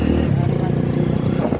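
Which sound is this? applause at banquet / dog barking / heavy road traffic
heavy road traffic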